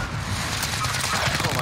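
Rapid shotgun fire in the Vanguard Warzone video game on Rebirth Island, dense, loud blasts running continuously through the moment with a voice talking over them.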